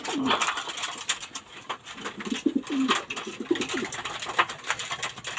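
Racing pigeons coo repeatedly at close range, low throaty calls recurring through a busy background with someone talking over them.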